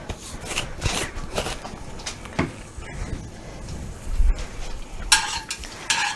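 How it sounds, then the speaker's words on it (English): A spoon stirring Cajun grits with butter and garlic in a pot, making continuous thick scraping and swishing close by, with a faint sizzle from a nearby skillet and occasional sharper clinks. "I just got that spoon there so I can give it a good occasional stir to the grits"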